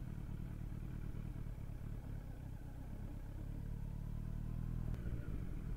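A 2018 Kawasaki Z900 motorcycle rides along a road, its engine a continuous low drone mixed with wind rumble and light clatter, steady and fairly close throughout.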